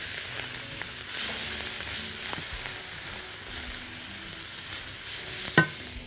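Cauliflower and meat frying in a pan with parsley, cumin, salt and black pepper for a cauliflower and meat tagine, stirred to a steady close sizzle with occasional scraping clinks and one sharp knock near the end.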